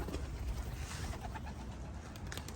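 Racing pigeons coo and flutter near at hand at a pigeon race release, a low steady cooing and bird noise running through the whole stretch with no talk over it.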